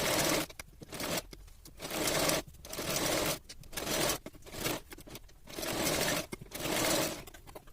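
A sewing machine stitches the outer side of a princess cut blouse in repeated short bursts, about seven runs of close whirring separated by brief pauses.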